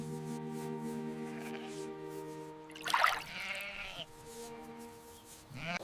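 Sheep bleat in a farm enclosure, a steady, long, tonal bleat followed by a sharper, louder cry near the middle and a few softer calls, close and clear with no talking.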